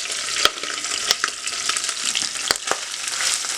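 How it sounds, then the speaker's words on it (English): Shrimp shells fry in hot shimmering oil in a Dutch oven, a close, bright crackling sizzle with sharp pops and scraping stirs punctuating the steady hiss, no voices. "So now we're going to add our beautiful shrimp shells."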